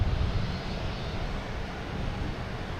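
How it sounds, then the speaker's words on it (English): A JetBlue Embraer E190 arriving from DC at Boston Logan, a steady broadband jet roar that sits loud and close throughout, with a heavier low rumble at the start and no talk over it. "JetBlue coming in from DC. An E190."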